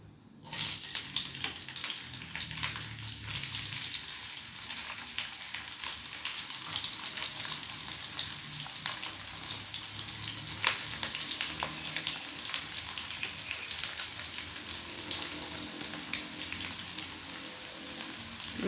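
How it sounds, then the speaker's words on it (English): Onion fries in a pan for crab curry, a steady bright sizzle with light stirring scrapes that holds nearly constant from just after the start to the end. "Add onion."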